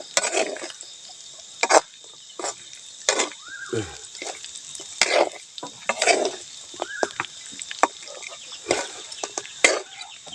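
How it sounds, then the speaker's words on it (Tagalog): Cooking oil bubbles and sizzles while frying food, with intermittent sharp pops, clanks and scraping of utensils up close. "nagkulo-kulo pa kulo-kulo yung mantika niya"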